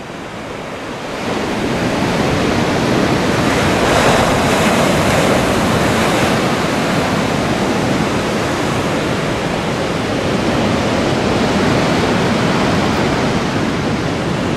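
Sea surf rolls onto Lyubimovka beach after a night storm, a loud, continuous roar of breaking waves heard from a lookout tower, steady and unbroken with wind buffeting the microphone.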